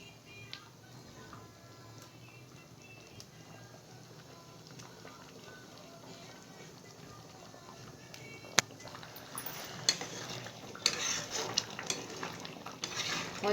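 Fried paneer pieces go into simmering palak in a pan, with a soft low sizzle and light scraping of a spoon, then sharper clinks and stirring knocks against the pan that grow louder toward the end.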